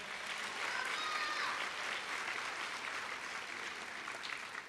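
Parents, friends and family at a high school graduation ceremony give a steady round of applause, a continuous wash of clapping heard from a little distance, with a faint whistle near the start.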